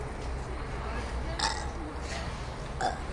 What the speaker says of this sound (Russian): Через рот или через жопу отрыжка?